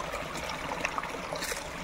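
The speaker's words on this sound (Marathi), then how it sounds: "धबधबा दाखवूया" A small waterfall on a Konkan farm, a continuous close rushing and trickling of water with a few brighter splashes, steady and unbroken with no voices.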